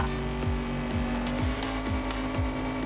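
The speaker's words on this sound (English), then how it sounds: "they're taking those drifts pretty smooth and they're boosting right after that" Hot Wheels toy cars drift through a racing video game, engines revving over and over with a steady roar while tires squeal and repeated downward-sweeping whooshes mark each slide and boost.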